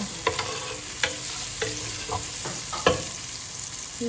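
Garlic frying in a pan while being stirred, a constant soft sizzle under scattered sharp scrapes and clicks of a utensil against the pan, close by with no talk.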